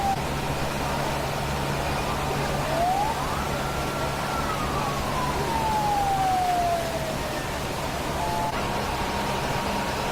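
A fire truck siren rises and then slowly falls in a single wail over a steady, noisy background hum, heard from a moderate distance, at a residential fire in Happyland, Tondo, Manila.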